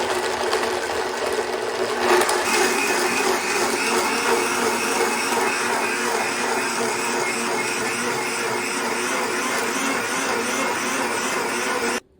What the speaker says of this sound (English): And then I'll partially blend the cashew.